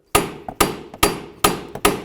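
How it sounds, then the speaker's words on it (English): Sharp, loud metallic hammer blows driving bolts out of a 2000-2005 Buick LeSabre strut assembly, striking at a steady rhythm, five heavy hits with lighter taps between, close up. "Use your hammer, go ahead and drive those through."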